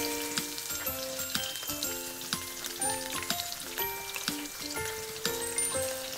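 Sliced onion sautéing in cooking oil for a crab dish in Padang sauce, a soft continuous sizzle with light crackles under faint background tones.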